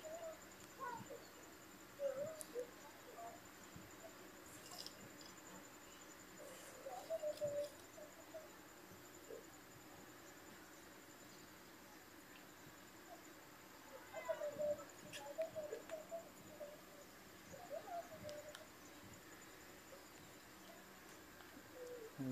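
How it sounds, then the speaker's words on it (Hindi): A koel calls outdoors where a goat is being butchered, giving faint, distant repeated calls in a few separate bursts over a quiet background with occasional soft knocks. "ये कोयल की मधुम आवाज़।"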